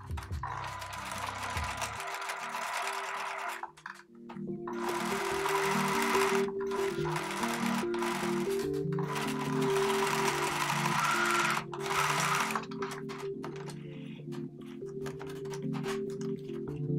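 A sewing machine stitches a bag's lining and handles in long runs of rapid, steady mechanical whirring, stopping briefly between seams, close and clear with no talking.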